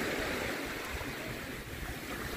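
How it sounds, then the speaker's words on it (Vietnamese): Waves roll in on Deauville beach in light wind, a steady broad wash of surf heard up close and alone, fading slightly midway before rising again. "Ồ, sóng lên."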